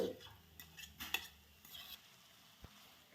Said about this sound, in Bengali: বেগুনটাকে সমস্ত মশলার সাথে একদম লো ফ্লেমে কিছুক্ষণের জন্য ভেজে নেব